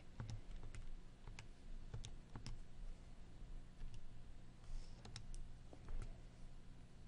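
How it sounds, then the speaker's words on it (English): Keys pressed in a quick run of sharp taps, probably on a graphing calculator while an equation is being entered, spaced irregularly and close over a faint low hum with no talking. "I'm going to go ahead and type this into my graph"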